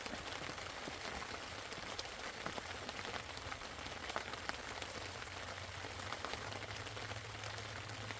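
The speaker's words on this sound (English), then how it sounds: "even though it's raining and it's overcast and cloudy" Steady rain falls on a forest campsite in Forbes State Forest, Pennsylvania, a continuous even patter with no voices and a faint low rumble underneath.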